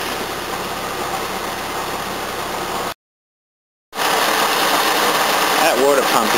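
A cold Toyota 18R-C engine idling with a noisy water pump, a steady mid-pitched hum and whine broken by a second of silence, then resuming slightly louder.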